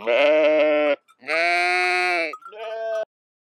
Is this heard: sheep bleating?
yes